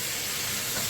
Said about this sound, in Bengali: আমি এখন এখানে দিয়ে দিচ্ছি একটা বড় টমেটো, এর সঙ্গে ভেজে নেব টমেটোটাকে